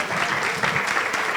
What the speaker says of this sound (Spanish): Un aplauso, por favor, para Beatriz.